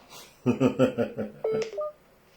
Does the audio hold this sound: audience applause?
no